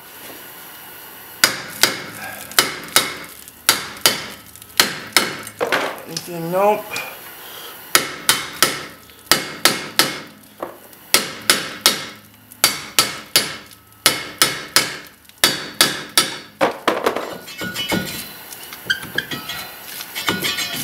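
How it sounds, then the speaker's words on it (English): Repeated hammer blows ring on a Hyundai Sonata's rear brake caliper bracket in a garage, dozens of loud metallic strikes in uneven bursts, with brief talk in between. "Take a hammer."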